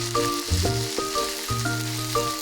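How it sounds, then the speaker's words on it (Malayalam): Onions sauté with salt in a hot pan for a Kerala-style pepper chicken, a close, steady sizzle and crackle with no talking, while a tonal hum runs through it. "ഇത് നന്നായിട്ടൊന്ന് വഴറ്റിയെടുക്കാം."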